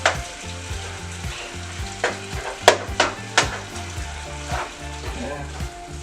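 Ground meat frying in a pan for spaghetti sauce, a constant sizzle under repeated scraping and knocking of a spoon against the pan, close and fairly loud, with a low rhythmic hum of background music underneath.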